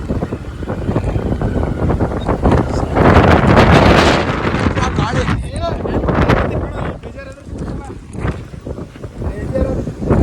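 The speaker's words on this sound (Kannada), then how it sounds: "ಮಳೆ ಗಾಳಿ ಫುಲ್ ಬರ್ತಾ ಇದೆ" Strong wind with rain roars and buffets the microphone in loud, uneven gusts for the whole stretch.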